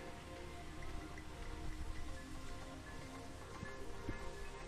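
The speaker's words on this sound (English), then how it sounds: "because it's still raining AF" Rain falls steadily outdoors in Putrajaya, Malaysia, a continuous even patter and hiss that stays constant throughout with no voices.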